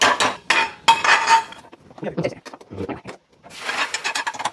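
A heavy cooking pan is lifted and handled, with metallic clanks, scrapes and rubbing in short bursts separated by brief pauses, close and fairly loud.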